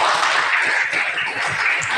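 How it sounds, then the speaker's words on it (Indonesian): A classroom of students applauds a presenting group, a steady, dense wash of hand claps filling the whole moment without a break. "Sekali lagi kita beri tepuk tangan untuk kelompok"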